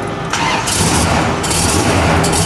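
A 1970 Dodge Super Bee's V8 cranks and catches on a cold, roughly 50-degree day, settling into a loud, steady rumble close by with no talk over it.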